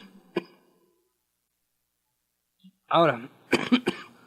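A single short cough from an older man lecturing on neuroscience at an induction talk, fairly close in a quiet room, followed by a couple of spoken words.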